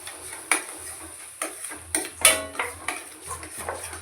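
A utensil stirs ground spinach (palak) paste in a metal pan while making palak paneer gravy, giving a series of sharp scraping clinks and taps at an irregular rhythm, close and fairly quiet.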